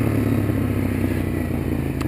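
A Ducati Monster 821 motorcycle engine at full throttle, a loud continuous low roar with a rough, throbbing texture, heard close and steady throughout.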